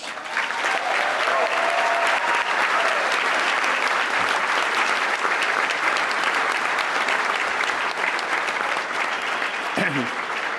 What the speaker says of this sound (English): give our staff and the convention committee a round of applause